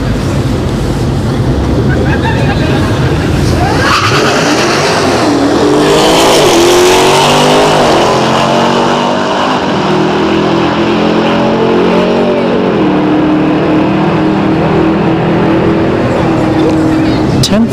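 A ZL1 Camaro and a Trackhawk launch side by side at a drag strip, with loud engine roar building into a rising, overlapping wail as the cars pull away, then fading under the crowd-like wash while a commentator talks.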